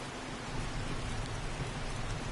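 Steady rain in the survival video game 7 Days to Die, a dense, even hiss of falling water with a low rumbling undertone, continuous and unbroken, with no voices.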